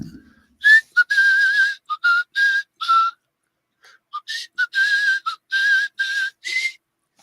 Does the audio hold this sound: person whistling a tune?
yes